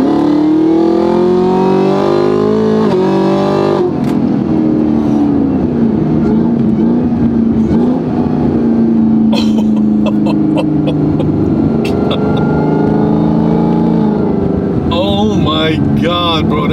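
Chevrolet Camaro fitted with an 810 hp package accelerating hard, a loud, rising engine drone heard from inside the car with road and wind roar, while people talk over it.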